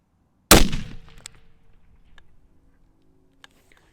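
A single loud 300 WSM rifle shot, loaded with H4350 powder and 215-grain Berger bullets, cracks near the microphone and rings down into a fading outdoor tail, followed by faint clicks.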